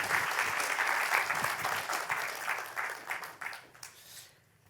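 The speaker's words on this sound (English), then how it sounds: "Give her a warm hand of applause," Audience applause welcoming a woman professor to a university lecture podium, a dense steady wash of many hands clapping that thins and fades out near the end.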